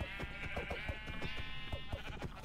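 Sheep bleating in Minecraft as they are struck repeatedly, with rapid rhythmic hit sounds and a steady bleating tone running through the whole stretch.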